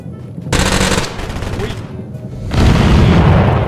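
Rapid automatic gunfire in the Totally Accurate Battlegrounds shooter game, loud bursts of fast shots with a short gap, then a heavier booming burst near the end; brief voice underneath.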